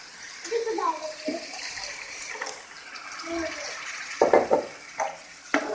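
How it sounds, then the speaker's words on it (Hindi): Water poured into a cooking pot of red bean curry in short gushes and splashes, using the water the beans were boiled in, with someone speaking intermittently between the pours. "मैं इसमें वही पानी ऐड करूँगी जिसमें मैंने लोबिया को बॉईल किया था।"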